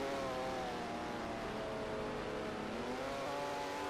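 Race cars at the Rolex 24 endurance race roar past at a distance, a steady engine drone with shifting pitch, heard faintly under crowd and track ambience.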